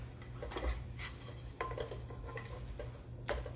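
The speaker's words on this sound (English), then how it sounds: "we're going to take our spatula and we're going to turn it one time" A metal spatula scrapes and taps against a pan while turning a breakfast sandwich patty, giving a few soft clinks and scraping strokes over a low steady background hum, with no talking.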